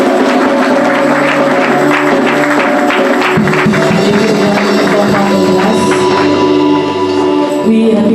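A church congregation applauding to acclaim the Lord, a loud, dense and sustained wash of clapping with no break.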